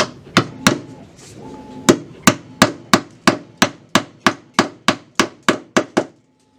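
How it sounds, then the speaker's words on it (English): Steady hammer blows driving snap-on retainers into a wooden joist, about fifteen sharp knocks in an even rhythm, loud and close, with no talking. "we hammer them into the joist"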